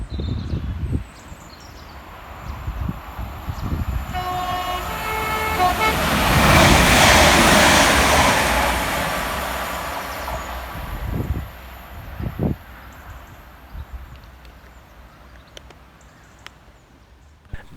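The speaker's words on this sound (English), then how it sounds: "Passing next through the station for Transport for Wales is 197106, working 1 Victor 39 from Manchester Piccadilly through to Cardiff Central." Transport for Wales unit 197106 sounds its horn in a clear blast as it passes through Goostrey station, and the engine and wheel roar swells to a loud peak and then fades away.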